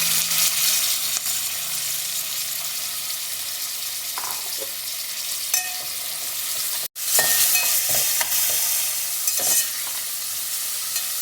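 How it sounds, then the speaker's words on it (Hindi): Two onions browning in oil in a pot give a steady close sizzle, with occasional clinks and scrapes of stirring and a brief dropout partway through. "अब इसको अपने अच्छे तरीके से ब्राउन कर लेना है"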